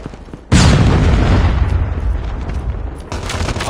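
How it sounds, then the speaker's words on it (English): Predator missile strike in Call of Duty: Mobile multiplayer, a sudden loud boom that rolls into a long rumbling blast tail, with scattered gunfire continuing behind it. "Be advised, hostile predator missile inbound."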